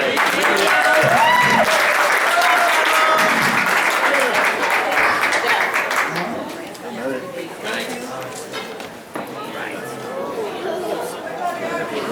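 Loud, close audience applause at a memorial event, dense clapping that peaks early and tapers into scattered claps, with crowd chatter and voices mixed throughout.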